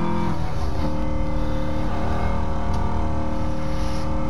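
A Ford Shelby GT350R on a race track revs its engine hard, a loud continuous high-pitched wail filling the whole stretch without a break, close and dominant with no voices over it.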